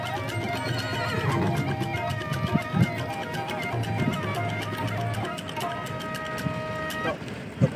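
A pure Sindhi breed mare at the Tilwara livestock fair in Balotra whinnies in a long, wavering, high-pitched call, close and loud, over a busy fairground din with scattered voices and an occasional vehicle horn.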